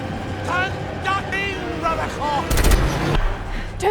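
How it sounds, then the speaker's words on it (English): Gunfire from a desert vehicle chase action scene in Mad Max: Fury Road: a short burst of rapid shots breaks through a loud mix of engine roar, shouting voices and chaotic battle noise. "Don't they know they're shooting at us?"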